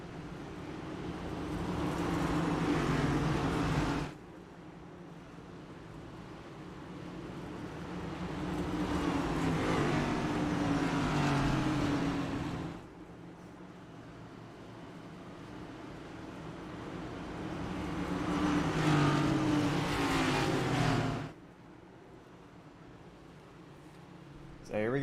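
Race car engines in iRacing at Bristol, a short oval track, with three long engine swells rising and cutting off under steady commentary.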